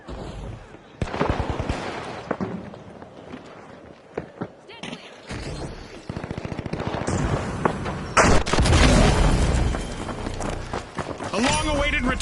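Frag grenade blast in the arena shooter The Finals, one loud burst amid ongoing gunfire, footsteps and commentator talk.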